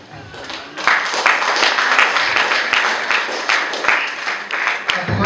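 A church congregation claps and applauds together, a dense, lively patter of many hands with sharp individual claps, loud and close and holding steady after a quieter start.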